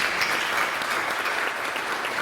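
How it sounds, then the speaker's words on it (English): A church congregation gives a round of applause for the service team, a steady wash of many hands clapping at close, even volume for the whole short stretch. "let's just give everyone who's been involved in making this service happen a round of applause"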